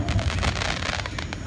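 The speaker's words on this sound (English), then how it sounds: "Okay, we're gonna just look at the fireworks." Fireworks go off in a quick, dense string of crackling bursts and pops at moderate distance, with voices talking over them.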